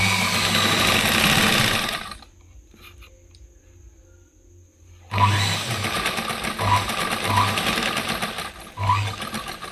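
A sewing machine stitches a sleeve onto a blouse with a fast, whirring run, pauses in near silence for a few seconds, then starts again in short bursts, close and loud.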